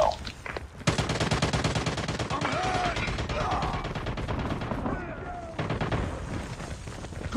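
An automated sentry gun in a Call of Duty match fires long rapid bursts of gunfire, dense and continuous with a brief pause before resuming, amid other game combat noise.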